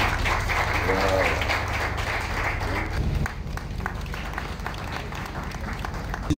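Steady applause from a crowd fills the room at an exam results ceremony in Côte d'Ivoire, continuing evenly throughout with a brief voice near the start.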